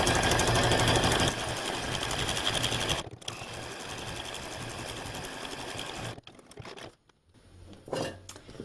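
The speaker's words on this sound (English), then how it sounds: "You're just going to go as slow or fast as you can control your machine" A sewing machine stitches an oval shape on a snowman quilt. The needle chatters rapidly and steadily, eases briefly around the middle, then slows and stops before a short burst of stitching starts again.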